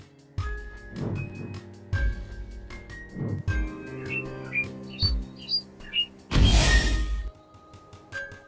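Bird chirps in Oiseau, an open-world bird exploration and survival game: short bright tweets and trills over a soft game music bed, with a louder rushing swoosh near the end.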